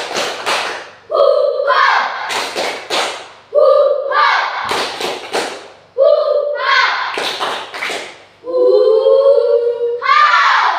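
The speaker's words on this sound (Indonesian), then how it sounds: "Tepuk semangat." A classroom in an Indonesian religion lesson performs a rhythmic spirit clap: loud, close bursts of group clapping in a set pattern, each round broken by shouted chants from the class.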